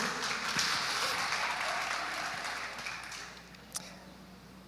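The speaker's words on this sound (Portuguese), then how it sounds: "uma salva de palmas aí para vocês" A church congregation applauds during a Sunday morning service, the dense clapping strongest at first, then fading away, with a couple of sharp knocks near the end.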